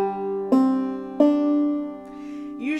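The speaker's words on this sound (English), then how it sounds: "So your whole banjo sounds like this." A clawhammer banjo in Sawmill tuning, a mountain modal tuning, is strummed open in three ringing strums, each sustaining and decaying before the next, then a softer brushed stroke at the end, with no talk.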